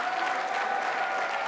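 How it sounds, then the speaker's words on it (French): Dense crowd applause at a ceremony in Congo honoring a patriarch, a steady wash of many hands clapping at once, loud and continuous throughout with no gaps. "Peut-on applaudir encore plus fort que ça?"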